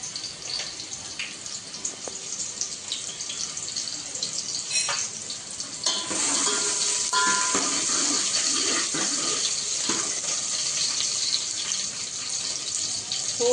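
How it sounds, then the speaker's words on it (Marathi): Chopped onion dropped into hot oil in a pot, a bright steady sizzle and crackle that swells and grows louder partway through, with no voices. "आता मी ते तापलंय ना तर कांदा घालते."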